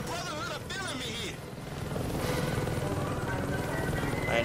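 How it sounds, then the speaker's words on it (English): In Saints Row 2, a helicopter's rhythmic rotor chop and engine whir grow steadily louder, with a voice talking briefly at the start. "There's another helicopter?"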